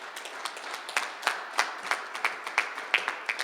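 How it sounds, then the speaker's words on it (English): A small audience at a mayoral press conference on year-end crime claps for the mayor, a scattered, modest round of distinct hand claps at moderate distance. "Can we give the mayor a round of applause"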